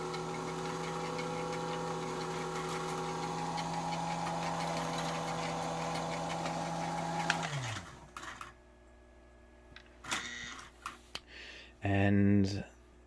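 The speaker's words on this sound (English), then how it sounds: "I'm going to turn on the belt on the log loader" A toy log loader's conveyor belt runs on a Lionel train layout, giving a steady motor hum and whir that holds for several seconds, then winds down and stops, followed by scattered clicks and a short buzzing burst.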